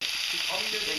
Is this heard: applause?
no